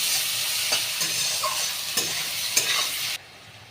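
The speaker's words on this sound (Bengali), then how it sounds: "পেঁয়াজটা বন্ধুরা আমি খুব ভালো করে লাল লাল করে ভেজে নেব" Chopped onions, two large ones, sizzle steadily in hot oil in a pan while a spatula scrapes and stirs them with several distinct knocks, close and loud, before the frying noise drops away abruptly.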